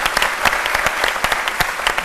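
Audience applause for a young Ivorian musician in a live TV studio, dense steady clapping with sharp individual claps standing out, fairly close and loud throughout without speech.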